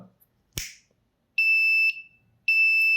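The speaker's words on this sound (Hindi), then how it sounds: "ये फायर को डिटेक्ट करके अलार्म दे रहा है।" A lighter clicks, then a breadboard fire detector's buzzer responds to the flame with two loud, piercing beeps of about half a second each, close by and with no talk over them.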